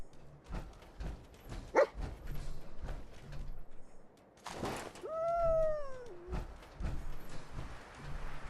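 Dogmeat, the German shepherd companion in the video game Fallout 4, gives a brief sharp yelp, then a drawn-out whining howl, amid scattered in-game thuds and footsteps.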